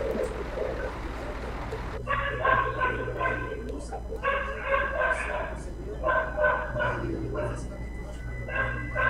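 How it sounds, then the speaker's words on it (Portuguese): Dog barking in the background of a Euro Truck Simulator 2 multiplayer voice session, sharp repeated yaps in several bursts over steady low engine hum, with a voice talking through it. "alguém tampa a boca do cachorro aí"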